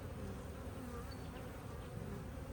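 A honey bee swarm's worker bees buzzing in a hive box, a soft steady droning hum that carries on evenly and close, with no voices.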